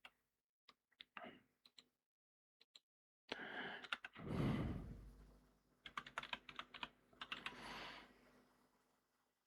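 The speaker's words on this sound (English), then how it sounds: "let me just type in this word again" Keys clack on a computer keyboard close by, a few scattered taps first, then after a short pause denser bursts of typing with small gaps, fairly quiet with no voices.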